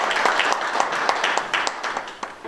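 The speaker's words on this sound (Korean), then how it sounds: "발제를 해주신 장진희 연구위원님께 다시 한번 힘찬 박수 부탁드리겠습니다" An audience claps at a Korean panel discussion on rider workers' labor rights, a steady, moderately distant patter of many hands that thins slightly toward the end.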